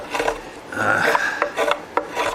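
Mandolin wood being cut against the grain with a Dremel tool, a series of short rasping, scraping strokes with brief pauses between them, close and fairly loud.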